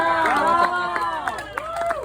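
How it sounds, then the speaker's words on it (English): Festival crowd at a Renaissance fair juggling show cheering and whooping after a five-ball trick, with a loud close voice exclaiming over the swelling shouts. "And the crowd went wild."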